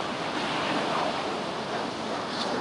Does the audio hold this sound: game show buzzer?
no